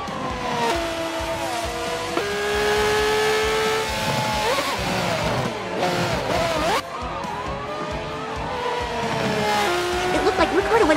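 A Formula 1 car in the Forza racing game spins out at a turn on the Mugello circuit, its engine whining loudly through shifting pitch with tyre squeal, all under continuous commentary.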